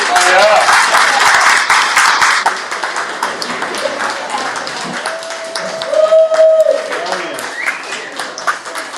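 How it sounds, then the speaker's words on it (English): An audience at a bookstore reading event applauds steadily and loudly at first, then the clapping thins out as voices and chatter take over the room. "One more round of applause for Phoebe and Betty, please."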